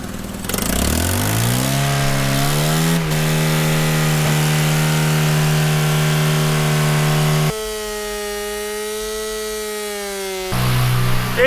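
A car engine runs with its oil pan removed, revving up from idle into a loud sustained drone with strong harmonic tones that shift in pitch, then drops lower and surges back up near the end.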